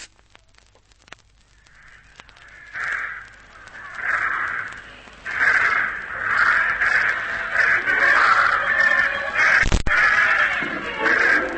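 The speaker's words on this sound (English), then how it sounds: "Send those birds up, and I'll be off." Crows caw repeatedly in a radio drama scene as birds are released, with harsh, loud calls building from faint to a steady overlapping chorus and a sharp crack near the end.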